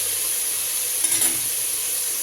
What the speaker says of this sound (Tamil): பச்சை மிளகாவும் தக்காளியும் வெட்டி வச்சுருக்கோம்ல, அதை ஆட் பண்ணிக்கலாம். நல்லா வசங்கட்டும்.